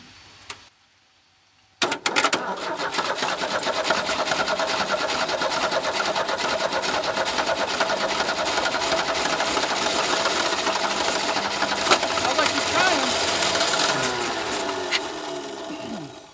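A 1989 Chevy S10 engine, abandoned for 22 years, cranks steadily after a short silence, the starter churning loud and continuous with a rapid mechanical rhythm but not catching.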